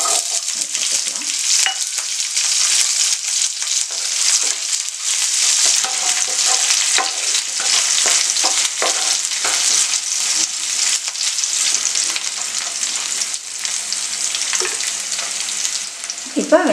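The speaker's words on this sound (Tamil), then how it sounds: "இப்போ வெங்காயம் பூண்டெல்லாம் நல்லா வதங்கிடுச்சு" Small onions, garlic and dried chillies sautéing in hot oil, a continuous close sizzle with scraping stirs across the whole stretch, no talk.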